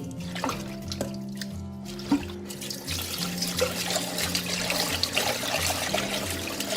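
Fish being washed by hand under running tap water in a sink, a steady flow of water with splashing and handling sounds throughout, no talking.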